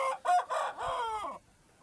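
A rooster crows once near a farmyard where poultry are shut in for the night, a loud harmonic call of several rising and falling syllables lasting over a second, followed by quiet.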